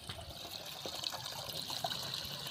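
Water trickling into a farm pump, a faint, steady running and dribbling sound with no voices.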